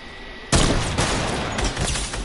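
Loud rapid gunfire from the video game Fortnite, a sudden dense burst of shots that keeps going as a continuous volley, close and alone.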